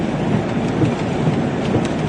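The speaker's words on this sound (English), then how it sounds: "I hear a hail roar right now." A steady broadband roar of hail approaching in a storm during a tornado chase in Illinois, dense and unbroken for the whole stretch with no talk over it.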